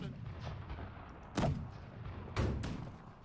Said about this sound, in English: Front cannons to take out their sails and repair my sails at the same time.